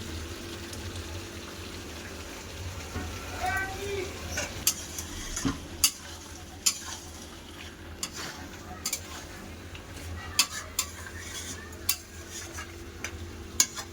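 A spoon stirs fried potatoes into a simmering meat curry in a pan, soft sizzling underneath with sharp, irregular clinks and scrapes of utensil against metal, close-up and without speech.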